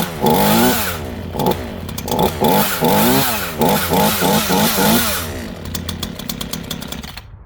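A new Craftsman 14-inch 42cc 2-cycle gas chainsaw starts and revs in repeated loud, close throttle bursts over a buzzing idle, then settles into a rattling, winding-down idle.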